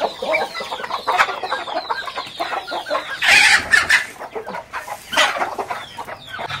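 Chickens at a farm cluck in a dense, overlapping chorus close by, busy and continuous, with a few sharper squawks rising out of the flock.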